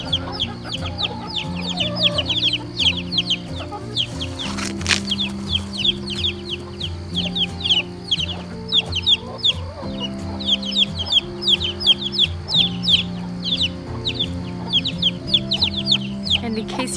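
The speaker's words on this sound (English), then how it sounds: "in case you're wondering what that racket is, that's Mama Hen trying to get her babies into the coop" A mother hen clucks steadily and busily while herding her chicks into the coop, with a loud fowl commotion and the occasional rooster-like call, all close by and continuous.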